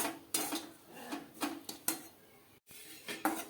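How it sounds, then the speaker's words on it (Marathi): Grated coconut is dry-roasted on low heat in a pan for a jaggery coconut chikki, heard as a rhythmic series of close metallic clinks and scrapes from a spatula stirring against the pan. "कमी गॅसवरतीच आपण खोबरं छान असं गोल्डन कलरचं भाजून घेणार आहोत"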